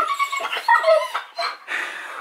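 A dog whines and yips in short, high-pitched bursts close to the listener, with no talking.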